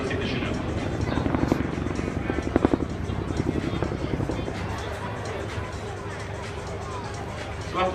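A Chinook helicopter flying an air show display at the 2015 Red Bull Air Race, its steady thumping rotor drone heard at a distance under crowd murmur.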